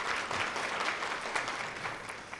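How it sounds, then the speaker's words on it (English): Steady audience applause at a state symposium on school-to-work transition, dense and even clapping that holds at moderate loudness throughout, with no talk over it. "So let's give her a round of applause."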